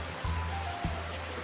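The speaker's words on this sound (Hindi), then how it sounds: "देखो तो केते जोर से वर्षा है" Heavy rain falls steadily, a constant dense hiss with low thuds and a faint tone running through it, close and unbroken throughout.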